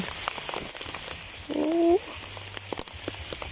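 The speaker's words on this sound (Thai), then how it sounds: "พี่น้องฝนตกแล้ว" Rain falls steadily outdoors in the Laotian countryside, a soft continuous patter of drops on surfaces with a brief higher call rising partway through.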